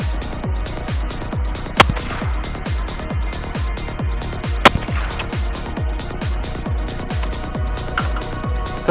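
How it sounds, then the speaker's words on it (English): Rapid, evenly paced rifle shots at an IPSC shooting training session, a steady string of sharp reports echoing close by, with two louder cracks standing out partway through. "Took 2 headshots just for fun."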